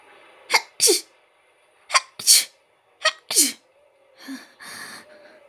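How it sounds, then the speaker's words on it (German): Three loud sneezes from a person alone in a forest, each a sharp burst with an intake of breath, spaced about a second apart, followed by fainter breathy sounds. "Schon wieder war dieses Niesen."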